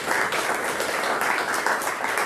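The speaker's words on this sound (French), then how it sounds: "Je voudrais qu'on applaudisse pour cette première série." Applause from the audience at a press conference for a boxing gala, even continuous clapping of moderate density throughout the short stretch.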